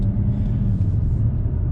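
A BMW 335d xDrive M Sport saloon with a 3.0-litre 308 bhp diesel riding over bumps, heard from inside as a steady, loud low rumble of road and engine noise with no talking.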